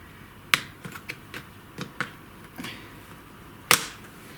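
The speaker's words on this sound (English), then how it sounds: "So it just clips. Can you hear it all clipping in?" A series of sharp plastic clicks and snaps, irregularly spaced, up close in a quiet room, ending with one louder snap.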